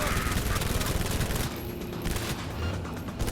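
Rapid gunfire in Cyberpunk 2077 with the wanted level at maximum, a dense, loud fusillade of overlapping shots for about a second and a half, then quieter scattered firing and rumble.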